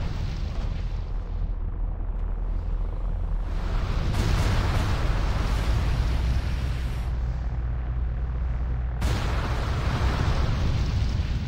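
Cannon fire in a Warcraft battle scene, loud sustained rumbling blasts and battle noise with surges of explosive energy, no clear speech.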